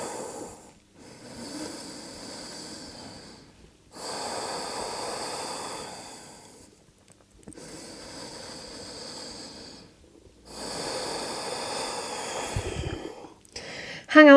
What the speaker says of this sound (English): Let's take 3 big deep breaths here in our child's pose.